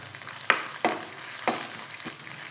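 Coconut pieces fry in two teaspoons of coconut oil for a jackfruit appam, a steady close sizzle broken by four sharp stirring scrapes.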